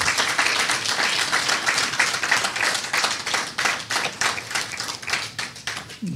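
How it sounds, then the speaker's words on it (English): An audience at an evening lecture gives a steady, sustained round of applause, many hands clapping in a dense, even patter that carries on throughout without any voices over it. "Can I get another round of applause for Kendall Okula tonight?"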